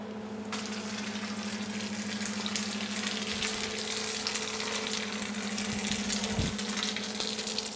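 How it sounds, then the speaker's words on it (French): Very hot cooked sugar mass in a confectionery workshop pours onto a cold marble slab, making a continuous close hiss and sizzle over a steady background hum, with a brief low thud near the end. "verser du coup ma masse qui est très chaude sur un marbre qui est froid afin de le faire refroidir au plus vite"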